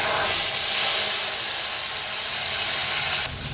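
Ginger paste hits hot oil that already holds cumin seeds, bay leaves and dried chillies, giving a loud, close, steady sizzle and hiss that eases off slightly toward the end.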